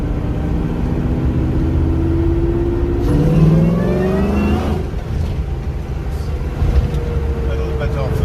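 A Nissan Gloria's V8 engine rising in pitch on a quick throttle blip from inside the car, loud and close, then settling back over steady road and engine noise.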